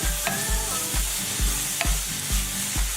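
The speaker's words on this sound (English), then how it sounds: "we're also going to get a raw onion paste into this mixture and give it a good saute" Ginger garlic and raw onion paste sautéing in a pan for a South Indian vegetable kurma: a close, steady sizzle broken by rhythmic stirring scrapes roughly every half second, with no voices.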